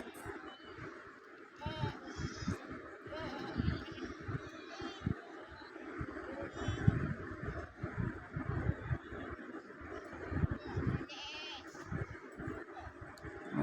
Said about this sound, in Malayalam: ആട് ഒരുപാട് വന്നിട്ടുണ്ട് കണ്ടമാനം ആട് വന്നിട്ടുണ്ട്